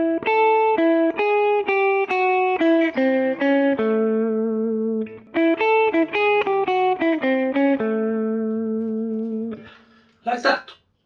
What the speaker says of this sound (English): So this is a little chromatic lick as well.